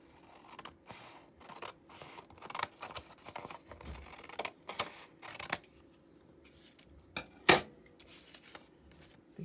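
Scissors cut through two layers of craft material in a run of short, close snips and crisp clicks, irregular and fairly quiet, with one sharper click near the end.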